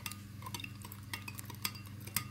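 A spoon clinks and scrapes against a glass while stirring gelatin into hot water, in a quick, uneven run of light taps, close and fairly quiet, with no talking.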